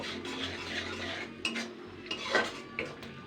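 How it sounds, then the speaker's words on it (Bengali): A spoon lightly stirs chana dal batter with salt in a pot, giving soft scraping and a few clinks of metal against the vessel, quiet and close over a faint background hum. "এবার আমি এটাকে হালকা নাড়াচাড়া করে নেব।"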